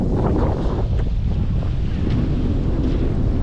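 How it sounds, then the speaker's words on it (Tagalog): Steady, heavy sea breeze on the Red Sea shore at Aqaba, Jordan, before dawn, roaring across an open microphone, with a low rumble of surf underneath, constant and loud throughout. "sarap ng simoy ng hangin"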